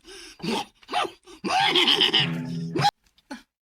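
A horse whinnies loudly with a long shaky neigh, followed by a few shorter snorts and bursts close by.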